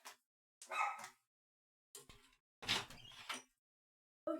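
A dog gives several sharp barks in short bursts, spaced with silences, loud and close indoors by a door.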